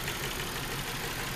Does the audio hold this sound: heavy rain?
no